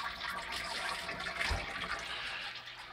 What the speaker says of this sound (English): as the water gushes in, I put this pipe here with a bunch of holes drilled in it so the water can kind of shower into the tank